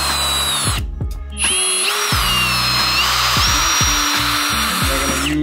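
A power drill pre-drills holes for a Prinsu roof rack on a Toyota Tacoma. It whines loud and close in a steady high-pitched run, with a brief pause near the start.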